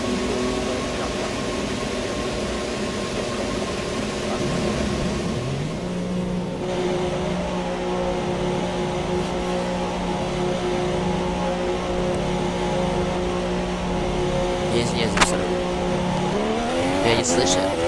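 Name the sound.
race car engine driving laps in video game F1 2017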